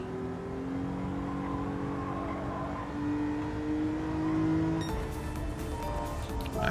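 Car engine in Gran Turismo 7 holding a steady, droning tone that climbs gradually in pitch as it accelerates, loud and continuous with no talk.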